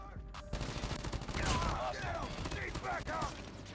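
A gold Type25 rifle hip-fired in Call of Duty Mobile, loud rapid bursts of automatic gunfire packed close together, with a voice speaking over the shots.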